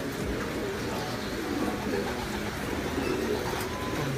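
Low coos of off-color racing pigeons repeat over a dense, noisy background hum, the soft throaty calls recurring every second or so.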